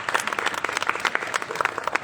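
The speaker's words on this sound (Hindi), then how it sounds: "तालियां रुकनी नहीं चाहिए" An audience at a Ramadan event claps energetically for children's performance, a lively, close burst of many hands with uneven peaks, faint crowd murmur underneath.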